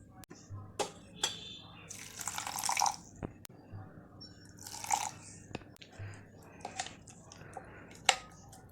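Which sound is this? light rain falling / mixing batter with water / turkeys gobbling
mixing batter with water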